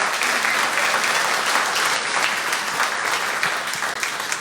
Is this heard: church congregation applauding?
yes